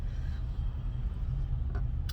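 A parked car's engine idling with the keys left in, a low steady rumble close by with a brief faint click near the end.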